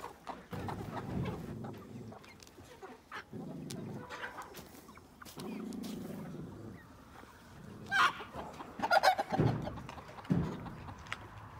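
Backyard chickens cluck repeatedly in uneven bursts, with low murmuring calls and sharper squawks near the end, moderately close and fairly quiet.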